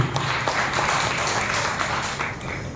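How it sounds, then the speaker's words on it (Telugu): A church congregation at an evening worship service claps loudly together, a dense continuous wash of applause that holds steady for a few seconds. "బిగ్గరగా చప్పట్లు కొట్టి ప్రభువుని భయపరచండి"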